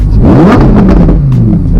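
A Lamborghini Huracán Performante Spyder in Corsa mode gives a loud, close exhaust rev, its engine note climbing and falling through one short blip with a deep, growling tone.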